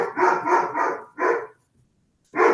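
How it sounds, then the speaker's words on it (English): Golden doodle Teddy barks in a quick string of four sharp, loud barks, falls silent for under a second, then lets out one more, clear and alone. "Our little golden doodle, probably barking at the mailman or something."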